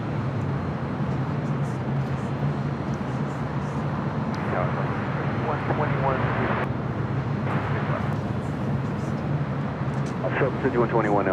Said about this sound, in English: Delta Airlines flight 335 coming in from Boston. An old TWA 757-200